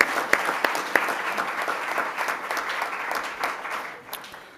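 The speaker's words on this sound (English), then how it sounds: "Let's give them a round of applause" A school board meeting audience applauds students and teachers, a dense spread of clapping with a few sharper individual claps early on, gradually thinning toward the end, with no voices.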